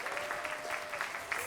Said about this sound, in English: Can I get a round of applause for my volunteers?